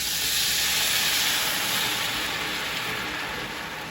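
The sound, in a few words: vegetable stock poured into hot pan, sizzling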